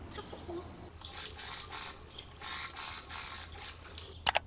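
A sewing machine runs stay stitching on pajama trouser pieces, making a soft mechanical whir in several short bursts with brief pauses, and a couple of sharp clicks near the end.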